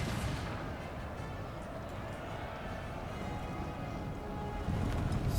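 Artillery cannons fire in a Napoleon Total War line battle, heard as a dense, continuous low rumble of distant guns and battle noise, swelling slightly louder near the end, with no one talking.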